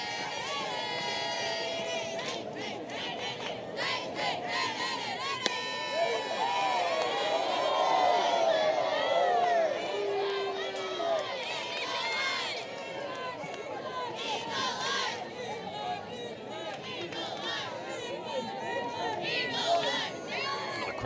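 A large crowd fills the stands at an Alabama versus Auburn college softball game, its steady roar and chatter swelling continuously while commentators talk over the noise.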